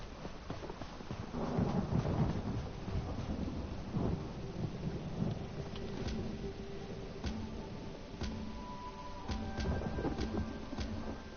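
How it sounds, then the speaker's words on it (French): Stormy weather in The Elder Scrolls Online: a continuous wash of rain with low rolling thunder swells, plus scattered sharp ticking and clopping sounds layered over the storm, no voices. "Tempête à l'horizon."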